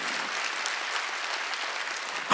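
Congregation clapping during a Wednesday church worship service, a dense sustained wash of applause from many hands, steady and fairly loud throughout, swelling briefly at the very end.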